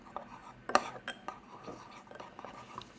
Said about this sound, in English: So, we will mix.